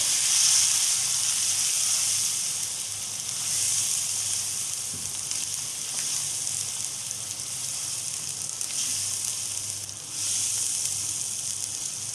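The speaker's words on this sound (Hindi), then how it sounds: "अब आप 2 मिनट के लिए टमाटरों को भूनें।" Tomatoes with onions and spices fry in a pan, giving a steady, close sizzling hiss that holds evenly throughout with slight swells.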